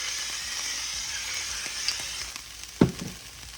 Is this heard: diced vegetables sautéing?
yes